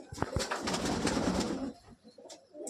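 A large dhari pigeon with broad wings and a sixteen-feather tail coos close by, its soft calls mixed with rustling and handling noise over a short stretch.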